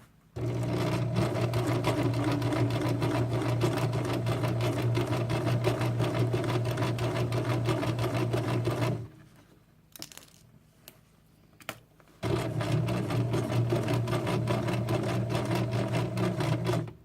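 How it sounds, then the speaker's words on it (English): Home sewing machine stitching a fabric tote bag, a steady loud motor whir running about nine seconds, pausing briefly with a few small clicks, then resuming as it reverses to lock the stitches. "I'm going to reverse to lock the stitches down"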